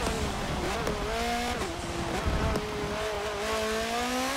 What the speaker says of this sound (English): back to how this GTR sounds though